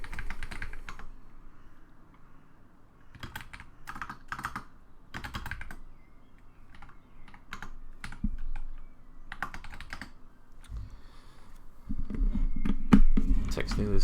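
Clicks from a computer keyboard during a game development livestream come in bursts of typing separated by short pauses, with quiet speech in places and a louder stretch near the end.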